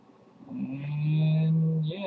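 A single cow in the Minecraft video game gives a drawn-out moo, close and clear, rising and holding for about a second and a half against a quiet background.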